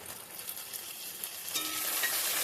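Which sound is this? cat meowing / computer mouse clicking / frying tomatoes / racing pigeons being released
frying tomatoes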